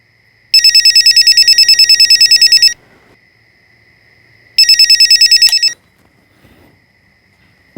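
A telephone rings in two loud bursts of rapid electronic trills, the first lasting about two seconds and the second shorter, with near silence between them and a faint steady tone underneath.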